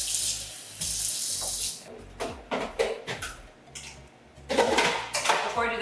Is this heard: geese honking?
no